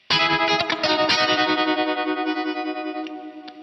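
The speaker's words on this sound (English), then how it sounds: "that weird like sweep thing is just basic ring mod, tuned to B" Electric guitar chords with tremolo, run through a ring modulator tuned to B that adds a weird sweeping metallic tone, loud and dense at first, then ringing and fading with a pulsing wobble; no voices.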